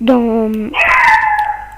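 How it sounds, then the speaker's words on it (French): A dog yelps and howls in the background, one drawn-out tonal cry that jumps higher in pitch and holds, while a person speaks nearby. "ah pardon pour le chien, désolé."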